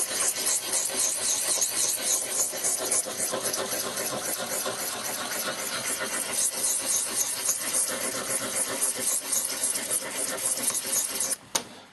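A knife blade is scrubbed back and forth on a sharpening stone, making a steady, close, continuous rasping grind that runs without pause until a brief break near the end.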